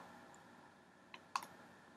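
A computer mouse clicks faintly while frames are dragged in Flash animation software, two or three brief soft clicks in a quiet room.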